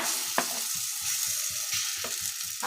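Ground chana dal paste dropped into a little hot white oil in a pan, giving a steady hiss of frying with a rapid series of soft, evenly spaced low pops and a couple of sharp clinks.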